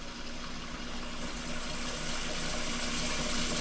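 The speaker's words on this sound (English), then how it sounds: "That's how you know it's draining a bit." Water drains steadily down a previously clogged kitchen sink with a continuous gurgling hiss and a low hum, growing slightly louder toward the end.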